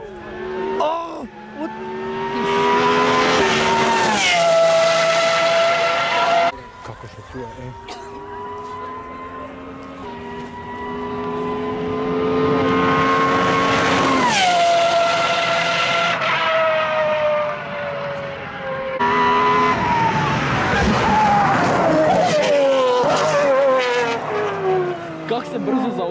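A Pagani Huayra R track car engine screams close by, climbing through repeated high-revving runs with sharp pitch drops at each gear change and some tire noise, loud and sustained throughout.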